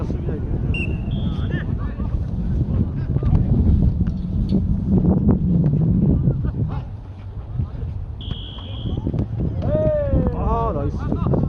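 Strong wind gusts roaring into the microphone at an outdoor jokgu tournament final on a rainy, windy day, a constant loud rumble broken by brief whistles and distant voices.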